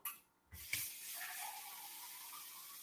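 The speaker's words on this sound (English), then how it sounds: "I'm just going to add a little bit more warm water to this and thin it out" Warm water poured into a breakfast mixture in a bowl, a steady close splashing flow that starts after a brief quiet moment and runs on evenly.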